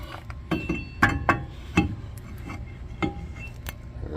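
Brake rotor being fitted back onto a Chevy Impala rear hub, giving scattered metallic clinks and knocks at close range over a steady background, with no talking.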